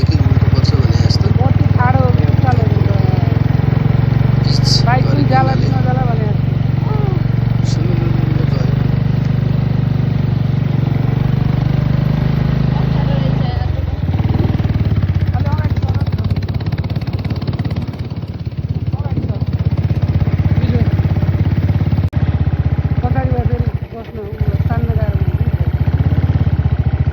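A motorcycle engine drones steadily up a steep hill road in Butwal, a low, continuous, fairly loud hum that runs through the whole ride beneath near, almost constant talking.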